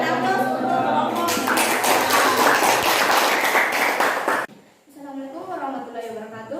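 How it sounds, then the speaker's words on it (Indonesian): An audience applauds a presenting group at an academic session, a dense burst of clapping that swells and holds for several seconds before stopping abruptly, after which a voice begins speaking. "berikan aplaus untuk kelompok"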